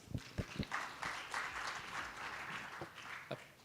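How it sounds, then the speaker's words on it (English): An audience at a maritime security conference gives panelists a brief round of applause, with scattered claps forming a light, uneven patter in a large hall. "Let's give them a round of applause."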